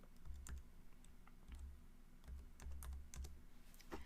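Measurements being typed on a computer keyboard while designing chapstick purses in Cricut Design Space: a short burst of quiet, close key clicks in irregular clusters, with no speech.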